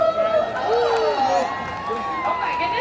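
An excited crowd at a sea lion show at West Edmonton Mall cheers and shouts, with high children's voices whooping over a dense, sustained roar of noise.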